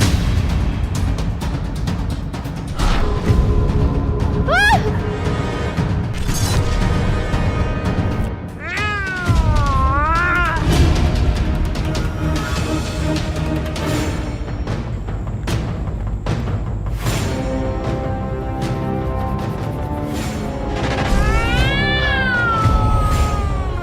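A cat meows again and again, long plaintive cries rising and falling, loud and near over a steady low background noise.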